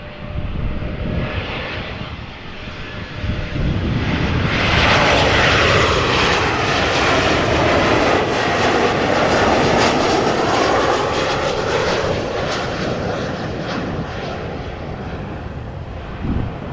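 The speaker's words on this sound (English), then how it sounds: "Icelandair flight 500 arriving from Reykjavik, the 767-300ER, is also getting closer by" An Icelandair Boeing 767-300ER airliner approaching to land at Amsterdam Schiphol gives a loud, steady jet roar that swells to a peak midway and slowly fades, with wind buffeting the microphone.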